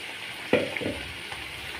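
Onion and garlic roasting over a low flame produce a soft, steady crackle, with one brief scrape of a stirring utensil near the middle.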